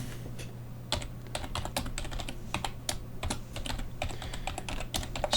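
Login email and password are typed on a computer keyboard as rapid, irregular clicking keystrokes in quick bursts over a low steady hum, close and clear with no talking.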